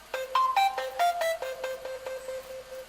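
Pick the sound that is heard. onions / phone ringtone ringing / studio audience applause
phone ringtone ringing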